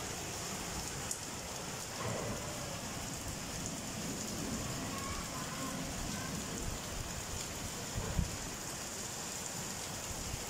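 Heavy rain pours steadily, a dense hissing wash with occasional louder drips and a faint low rumble.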